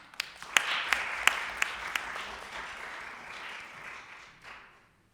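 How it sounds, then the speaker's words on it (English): An audience applauds young apprentice panelists at a People's Movement Assembly, a few sharp near claps opening into sustained crowd clapping that swells, then fades out over several seconds. "let's give these wonderful young folks another round of applause"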